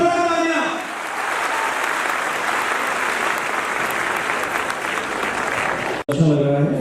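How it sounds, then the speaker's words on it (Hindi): Loud, sustained applause from a student audience at a motivational talk by an IPS officer at a coaching institute in Agra, filling the room steadily for about six seconds before cutting off abruptly. "जोरदार तालियां।"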